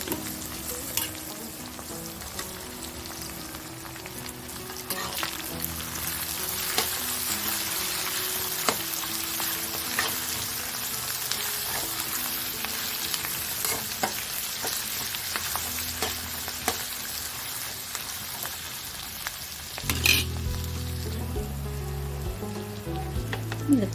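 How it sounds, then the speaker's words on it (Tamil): Onions sautéing in oil in a pan for a chicken gravy, a continuous close sizzle and crackle with occasional stirring scrapes, then a louder burst of frying near the end, no voices. "வெங்காயம் நல்லா பொன்னிறமாக வதங்கி வரும். பாருங்க, வெங்காயம் பாதி வதங்கிடுச்சு."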